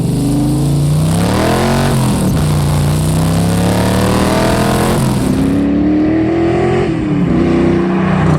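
1965 Shelby Cobra replica accelerating hard in first gear, its loud engine rising steadily in pitch, dipping at a gear change, then climbing again, close and alone.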